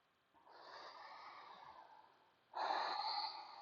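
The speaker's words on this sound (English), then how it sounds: "Breath is strong and steady" Strong, steady breathing during a yoga core flow: a long, airy breath followed by a louder, fuller one, close and clear with no talking.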